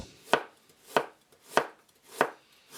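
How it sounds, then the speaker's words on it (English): A knife chops pork loin and cheese for a medieval polenta dish, striking a cutting board in five evenly spaced, sharp, close thuds, with quiet between the strikes and no talking. "we cut 200 grams of pork loin and 100 grams of cheese into pieces"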